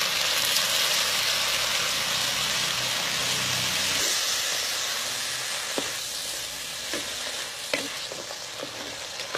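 Chopped tomatoes frying and being stirred in a pan while making an anchovy fish curry, a steady loud sizzle and hiss with a few scraping clinks of a spoon toward the end.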